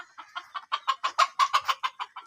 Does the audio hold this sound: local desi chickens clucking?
yes